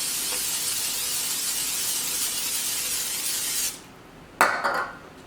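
Cooking spray hisses steadily onto food during meal prep for nearly four seconds, then stops, followed by a short burst of clatter nearby.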